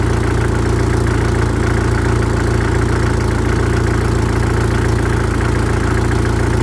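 A Jeep TJ Wrangler engine idles with a bad exhaust leak at a loose exhaust manifold flange, a loud, close, steady rumble with a constant throb and no talk.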